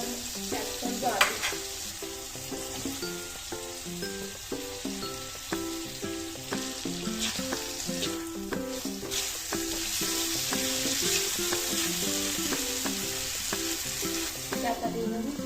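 Potatoes cook in a spice masala for an aloo begun bori curry with a steady frying hiss and scattered spoon clinks, running under patterned background music for the whole stretch.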